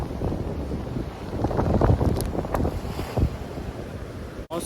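Wind blows steadily at the seashore during a lure-trolling fishing trip, a rushing, gusty roar buffeting the microphone with a surf-like wash beneath and no talking.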